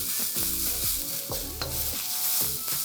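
Cabbage and carrot for chow mein stir fried in a hot pan, a steady loud sizzle with scraping and tossing of the vegetables throughout, close up and without talking.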